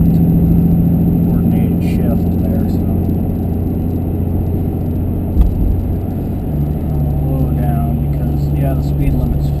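Cummins diesel truck under heavy launch, its engine droning steadily while shifting up through the gears with the torque converter locking, a shift change heard midway; someone talks over the engine throughout.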